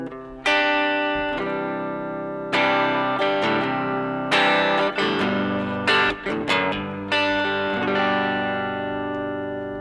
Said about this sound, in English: move over to our reverb and dial that in